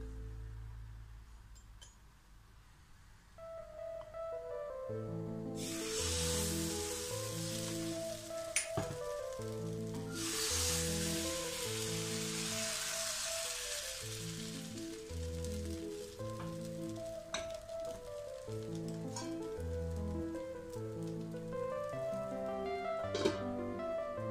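Wheat appam batter poured into a hot pan sizzles in a loud, sustained hiss, swelling in two strong bursts, with soft background music and an occasional clink, no speech.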